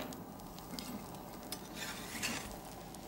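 A spatula scrapes and works around a frying pan holding setting egg, giving soft, faint scraping and stirring sounds over a low steady sizzle.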